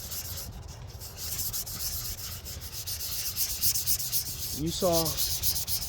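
Hand sanding of the painted body of an Estes Star Orbiter model rocket, a steady soft rubbing scrape in circular strokes, close and continuous, with a brief voice speaking near the end.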